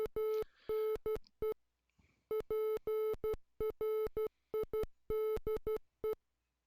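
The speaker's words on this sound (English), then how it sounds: "you get to hear something you paid to hear in Morse code" Rapid Morse code beeps from an NES game running on an emulator, a clean electronic tone keyed in short and long bursts with brief pauses, loud and alone.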